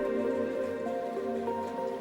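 Steady rain pouring down in New York during an acid-rain storm in the game Nothing to Declare, a dense, even patter over soft tonal game music, with no talk.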